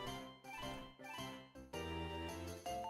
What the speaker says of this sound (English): I hope you guys didn't hear my Steam notifications go off.